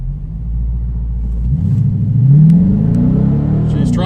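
Challenger R/T or EcoBoost Mustang launching hard in a 0-60 street run, a loud close engine roar rising in pitch as it accelerates, with a brief wheel-spin chirp.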